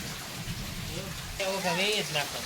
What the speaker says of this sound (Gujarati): બહુ વરસાદ છે અત્યારમાં તો